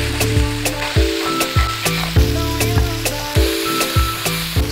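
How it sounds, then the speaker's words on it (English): Onions cook in a pan with Chinese five spice, curry powder, salt and pepper for a jackfruit curry, a close sizzle punctuated by a quick regular series of ringing utensil knocks against the pan. "So these onions are now cooking, they're releasing all their sweetness"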